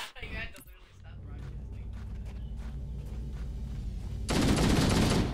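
Automatic weapon fire in Halo: The Master Chief Collection: dense, continuous bursts of gunfire that swell louder near the end, with voices talking over it.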